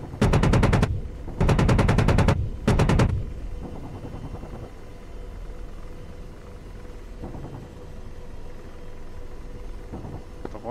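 Cannon on an AH-64D Apache helicopter in the DCS combat flight game fires three loud rapid bursts, each a dense, evenly spaced rattle of shots, over a steady rotor and engine rumble that continues alone afterward.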